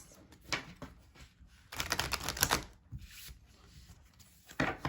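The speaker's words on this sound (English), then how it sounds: "Okay, so I'm just going to give it a few shuffles." Tarot cards are shuffled in several short bursts of crisp riffling and flapping, separated by quieter pauses, heard close and fairly soft.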